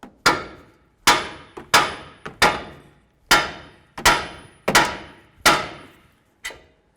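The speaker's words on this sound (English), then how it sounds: "next we're going to hit right on this knuckle and try to separate the tie rod from the knuckle" Hammer blows on the steering knuckle of a 2007-2014 Ford Edge to knock the outer tie rod end loose, nine sharp metallic strikes in an uneven rhythm, close and loud, each ringing briefly before the next.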